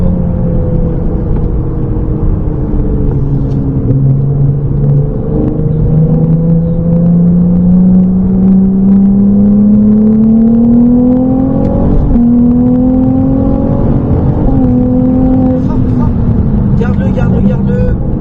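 A Ferrari 296 GTB on a race circuit pulls hard at full throttle, its engine tone rising steadily in pitch through a gear, dipping once, then climbing again, loud and close, with a voice speaking over it.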